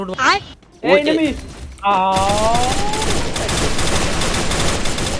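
Rapid bursts of gunfire from the battle royale video game Free Fire, dense and continuous from about the two-second mark to the end, following brief voices at the start.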